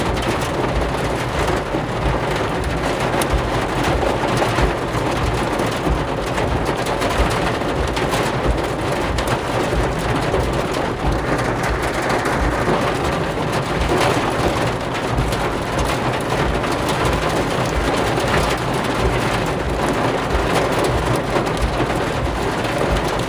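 A severe thunderstorm with baseball-size hail in Kansas brings a dense, steady roar of rain and hail pounding surfaces, with thunder rumbling underneath throughout and no voices.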